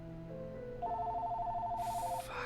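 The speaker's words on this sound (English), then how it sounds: "Fucking phone." A phone rings nearby with a short electronic ringtone, a rapid pulsing tone lasting about a second and a half over a low background hum, cut off abruptly.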